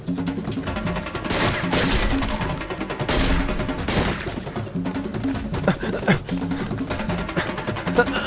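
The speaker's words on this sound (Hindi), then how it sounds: "लगता है गोली चलानी पड़ेगी" Rapid bursts of gunfire crackle repeatedly, loud and dense at first, then sporadic shots continue amid chaotic background noise.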